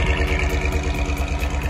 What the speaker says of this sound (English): I want you guys to hear my truck's exhaust.